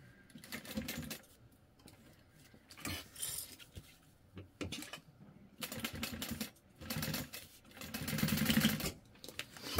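A domestic sewing machine stitches a zipper into a fabric bag in bursts of rapid mechanical whirring, several runs of a few seconds each, separated by pauses with handling clicks.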